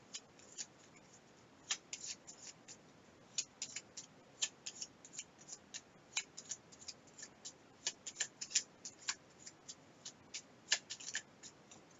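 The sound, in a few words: shuffling cards for a board game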